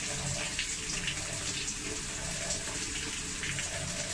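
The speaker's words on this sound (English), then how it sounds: "I have to fill the washing machine with some" Water pours steadily into a washing machine being filled before a cleaning cycle, a continuous close hiss and rush that holds an even level throughout with no talking.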